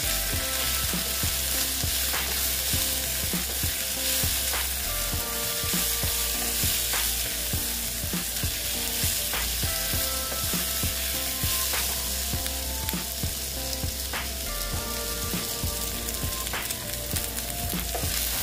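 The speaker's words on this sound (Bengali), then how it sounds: "দেখো পেঁয়াজটা প্রায় ভালোই ভাজা হয়ে গেছে" Steady, busy sizzling of onions frying in a pan, with occasional scraping stirs against the metal; no voices.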